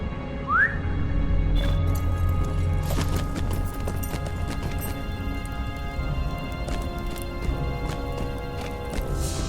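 Goat mount in a Lord of the Rings video game trots along with a steady clip-clop of hoofsteps, nearby and sustained, under a short rising whistle at the start and a low game hum.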